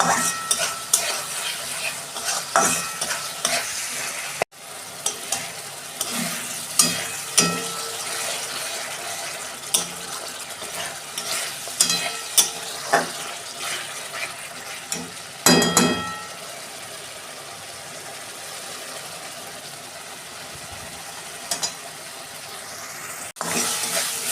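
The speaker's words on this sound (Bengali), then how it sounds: "মশলা আমার কষানো হয়ে গেছে। আমি এবার জল দেবো। তেল ছেড়ে গেছে দেখুন।" Spice paste sautés in oil for tengra fish curry: a steady sizzle punctuated by repeated spatula scrapes and knocks against the pan, with a sharper burst midway and no speech.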